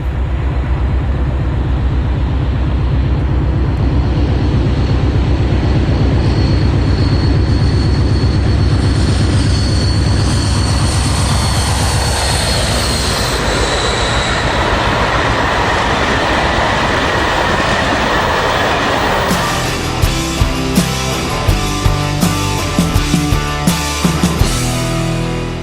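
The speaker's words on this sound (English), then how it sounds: "56094 storming through Pandy with empty wagons from Chirk going to Gloucester." British diesel locomotive 56094 storms through Pandy hauling empty wagons from Chirk toward Gloucester, a loud rumbling engine drone building and passing, followed by rhythmic clattering of wagon wheels over rail joints.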